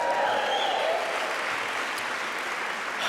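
Event audience at a Father of the Year awards show breaking into steady applause and cheering, a dense wash of clapping that stays loud throughout and eases only slightly toward the end.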